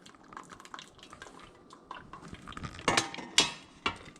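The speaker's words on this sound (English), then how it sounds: "Take this out and drain some of this water." Water being drained from a pot of cooked mussels, soft trickling and dripping with clinks and knocks of cookware that grow louder toward the end, close by and with no speech.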